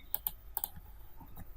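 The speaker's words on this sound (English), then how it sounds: "maybe I can just do it from my keyboard" Several computer keyboard keys pressed in a quick, irregular series of close, crisp clicks while editing a Canva design, with no voices.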